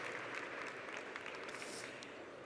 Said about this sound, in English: you can definitely give them a big warm round of applause